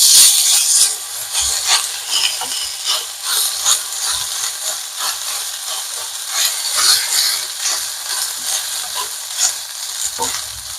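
Ginger garlic paste sizzles with onions in a pan, a loud, bright frying hiss that stays steady throughout, with faint scraping stirs underneath and no talk.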